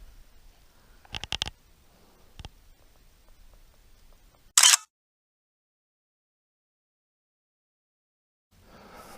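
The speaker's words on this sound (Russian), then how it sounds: "Фото на память." A single crisp mechanical click-burst of a camera shutter snaps a souvenir photo during an autumn duck hunt outdoors, loud and brief against near-silence, preceded by faint rustling and light handling knocks.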